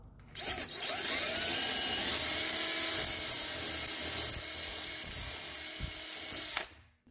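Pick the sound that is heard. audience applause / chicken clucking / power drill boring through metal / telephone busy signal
power drill boring through metal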